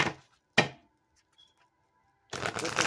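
Tarot cards being shuffled back into the deck, heard as a couple of short riffling bursts separated by near silence, close and fairly quiet.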